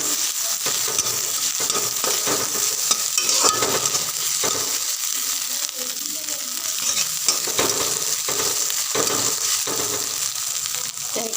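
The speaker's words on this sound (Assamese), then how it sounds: "সেইখিনি আৰু অলপ সময় ভাজি লৈ দেখুৱাই আছোঁ ৰ'ব" Okra frying in a pan for a dish with egg, a steady loud sizzle with repeated scraping stirring strokes throughout, no voices.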